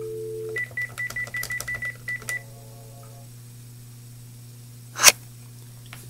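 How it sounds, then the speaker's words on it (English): A Panasonic TGP office phone gives a run of short, evenly spaced keypad beeps while a transfer number is dialed, followed by a brief tone pair over a steady hum, then a single sharp click. "Dial the phone number that we want to transfer the call to."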